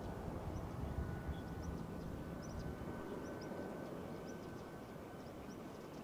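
Far off, a Vueling airliner arriving from Amsterdam at Barcelona El Prat airport makes a faint, steady jet rumble that slowly fades, with scattered bird chirps above it.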